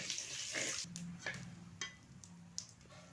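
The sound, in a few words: dried chilli, bay leaf and cumin sizzling in hot oil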